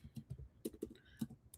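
Typing on a computer keyboard: a quiet, close series of irregular key clicks and taps, with a few slightly louder strokes, and no voices.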